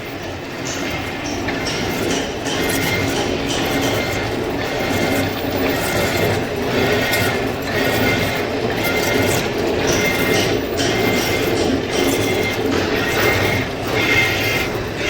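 In a workshop, a machine grinds through shafting work on a large diaphragm, a loud, continuous mechanical roar with rapid rattling and clattering throughout and no one speaking.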